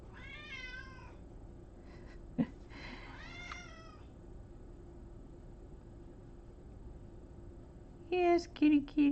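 A house cat meows several times, with a drawn-out, wavering meow near the start, another at about three seconds and a cluster of sharper, louder cries near the end, all close by in a quiet room.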